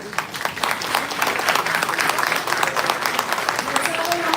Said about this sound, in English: Let's have a round of applause, ladies and gentlemen, for Dr. Manvi Arora.